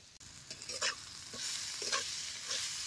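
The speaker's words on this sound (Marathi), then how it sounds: "हे सगळं तेलात चांगलं भाजले." Turmeric and asafoetida fry in hot oil with curry leaves, giving a soft continuous sizzle broken by a few brief stirring scrapes, quiet and close, with no speech.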